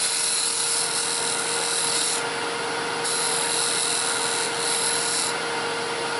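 Bowl turning on a wood lathe, a gouge cutting the spinning wood in a steady, continuous rasping hiss with a constant motor hum beneath, close and fairly loud, with slight swells as the cut changes.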